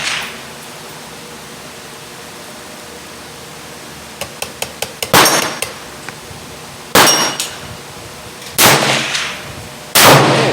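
Gunshots from a Ruger 10/22 Magnum rifle with a heavy barrel fired at a target range: four sharp, loud reports spaced a couple of seconds apart, preceded by a quick run of lighter clicks and taps from handling the gun.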